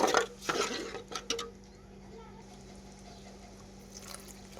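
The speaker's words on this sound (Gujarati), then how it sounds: "તો એમાં પાણી નાખી દઈએ હવે" Water poured into a cooking pot of frying potatoes, onions, chilies and tomatoes, a close splashing burst with pan clatter in the first second and a half, then fading to a faint simmer.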